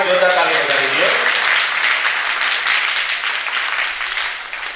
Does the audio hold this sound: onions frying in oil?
no